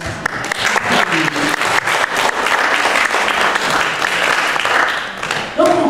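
Lively audience applause during a personal faith testimony, loud and close, with dense clapping sustained for several seconds before easing off at the end as a voice begins.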